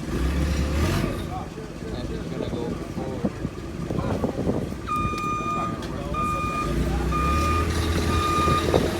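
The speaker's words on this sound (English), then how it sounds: "Put it up with the forklift." Reversing beeps from a forklift lifting a Nissan 350Z drift car, a steady repeating electronic beep over a running engine rumble and wind noise, with people talking nearby.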